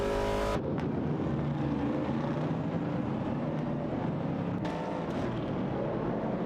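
Racing cars in a video game, a 1970 Chevrolet Camaro and a 1970 AMC Javelin, drone past with a steady, loud engine roar, after a short burst at the start and a couple of quick whooshes.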